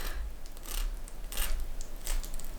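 A knife slices through a tough venison backstrap, giving several rough, scraping cuts close up, each a short gritty rasp over low background hum.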